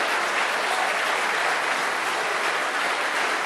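Sustained applause from a debate audience at a Labour leadership debate in Cardiff, loud, dense and steady throughout with no voices on top.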